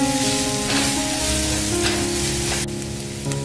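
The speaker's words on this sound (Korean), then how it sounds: "마늘이 어느 정도 노릇해지면 양파를 넣고 함께 볶아주세요" Garlic and onion stir-frying in cooking oil in a pan, a steady close sizzle with occasional stirring scrapes, continuous throughout with a slight drop in intensity near the end.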